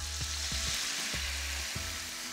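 Tomato paste fries in oil in a pan, a steady sizzle broken by four or five low, regular scrapes as a spoon stirs it through, close and alone with no voices.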